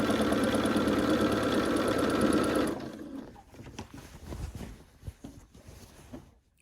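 A sewing machine runs fast and close, joining quilt strips with a steady rattling stitch for nearly three seconds before stopping, followed by soft handling and rustling of fabric.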